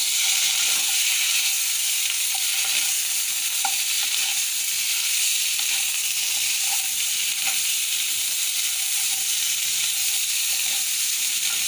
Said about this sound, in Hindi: तो 30-40 सेकेंड जिंजर गार्लिक पेस्ट के साथ फ्राई कर लीजिए ताकि इसका कच्चापन निकल जाए